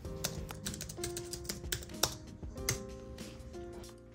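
Keys on an iPad keyboard clatter in quick, uneven bursts of soft clicks during an afternoon study session at a desk, close and quiet with no talking.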